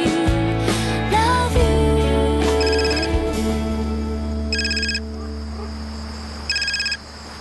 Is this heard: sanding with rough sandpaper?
no